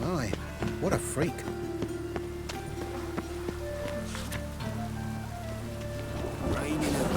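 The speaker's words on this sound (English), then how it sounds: "Looked like it would rain, and here it is." Steady rain patters over a constant hiss, with sharp drips and occasional clip-clopping hooves, while a voice speaks over it.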